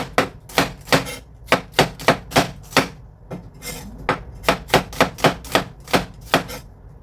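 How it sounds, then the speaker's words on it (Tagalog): An onion being sliced with a knife on a board, a close series of sharp rhythmic chops in quick bursts with brief pauses between runs. "So, slice lang natin yung ating sibuyas."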